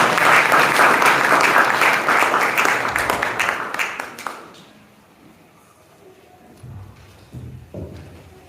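A church congregation breaks into loud, sustained applause that fades away after about four seconds, leaving a quiet hall with a few faint sounds.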